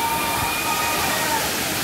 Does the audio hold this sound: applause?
no